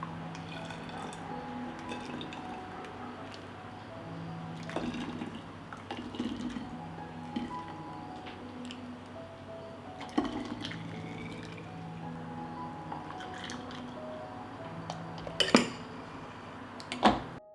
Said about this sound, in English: Filling bottles with juice.